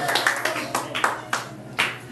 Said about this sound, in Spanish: En el nombre de Jesús, denle un fuerte aplauso a nuestro Señor